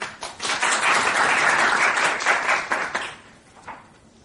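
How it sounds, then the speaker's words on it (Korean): Audience applause at an academic society conference, a dense wash of clapping that swells quickly, holds steady for about three seconds, then thins out and fades as the next presenter is about to speak. "박수로 좀 여러분"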